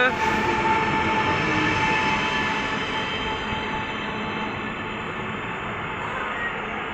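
An EN62A electric multiple unit train rumbles steadily close by as it arrives at Tarnów station, with a broad low roar and faint metallic tones, gradually easing slightly in loudness.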